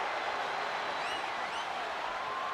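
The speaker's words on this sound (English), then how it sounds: "do you hear this capacity crowd?" A capacity arena crowd in WWE 2K25 during a no-holds-barred Stone Cold versus Rikishi match, a steady wash of roaring and cheering with a few faint whistles rising above it, no speech.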